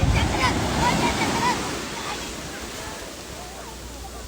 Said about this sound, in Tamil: கடல் சவுண்டு தான் அதிகமாக கேட்கும் வருது பாருங்க ஒரு பெரிய அலை